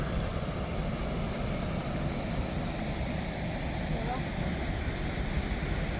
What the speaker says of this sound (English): This is Skyfall waterfall in Glencoe.